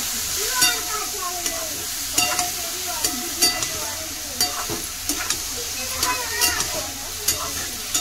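Okra frying in a hot pan and being flipped: a constant sizzle with a steady run of spatula scrapes and taps against the pan, close and fairly loud, with no talk.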